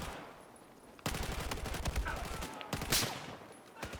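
L85A2 assault rifle fire in Battlefield 4, a rapid run of close, sharp gunshots in quick bursts with a short pause between volleys.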